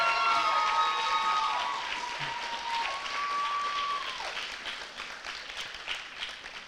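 Audience at a scholarship ceremony applauding new recipients, a full burst of clapping that gradually thins and fades over several seconds, with a few cheers and shouts mixed in.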